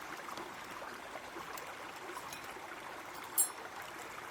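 Easter Egg Creek near Wawona trickling softly in a steady, faint babble beneath alder trees, a continuous gentle stream murmur with one brief click.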